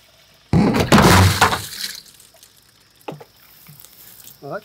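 A bucket of water tips over outdoors on a homestead, a loud crashing splash lasting about a second and a half, followed by a few scattered drips and knocks as it settles.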